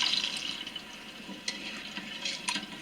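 Water splashing and filling a cooking pot on a home stove in Lebanon, a steady hissy pour with a few small clinks and splashes, close and fairly quiet.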